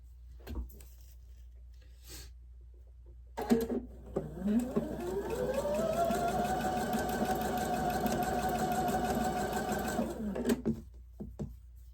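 A sewing machine chain pieces starched quilt fabric, starting after some handling clatter and then running in one close, steady, whirring stretch of about six seconds before stopping, followed by light fabric handling.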